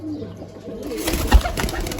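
Pigeons coo and shuffle about, soft low cooing with a rustle of movement growing louder in the second half and a brief thump near the end.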